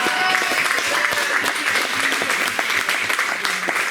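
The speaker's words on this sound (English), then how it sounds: "Let's give Andy a round of applause for the air conditioning" An audience at a real estate mindset talk breaks into loud, dense applause, a steady roar of many hands clapping with a little crowd murmur.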